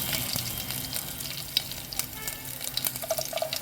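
Chopped garlic going into hot oil with curry leaves for a dal tadka: a continuous close sizzle and crackle, steady throughout, with a few sharper spits and light clinks near the end.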